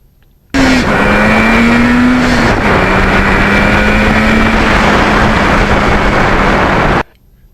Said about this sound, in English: naked bikes make a lot of wind noise